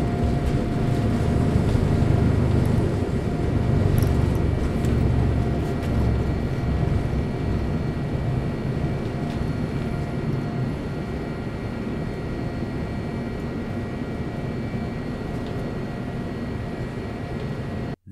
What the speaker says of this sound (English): As we're taking off, I'm reminded of just how nice and quiet the Boeing 787 really is.